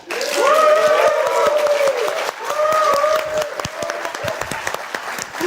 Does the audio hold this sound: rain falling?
no